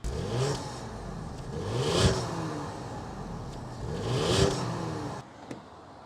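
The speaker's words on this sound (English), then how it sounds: "start it up, so you can hear that twin turbo V6 exhaust" Twin-turbo V6 exhaust of a 2025 Ford Explorer ST revs twice in swelling surges from a steady idle, close by and loud, then settles as it cuts out near the end.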